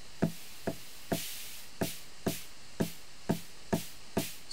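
A short, snappy electronic snare hit repeats at a steady pace, each crack tight and brief, with the later hits brighter and noisier.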